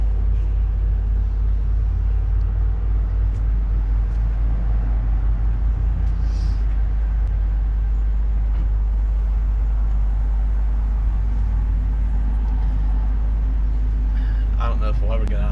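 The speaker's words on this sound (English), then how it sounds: "I don't know if we'll ever get out of this traffic." Road traffic in Moab, Utah, heard as a constant low engine rumble from vehicles in slow congestion, with a brief hiss midway, continuous throughout.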